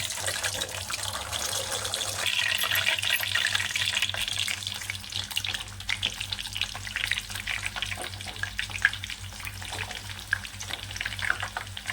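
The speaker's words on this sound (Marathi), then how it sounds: "मी आता इथं सगळं तेल गरम करायला आणि यावर आपल्याला ही पुरी तोडून घ्यायची" Rolled puris frying in a pan of hot oil, a steady close sizzle and bubbling hiss that runs continuously without talk.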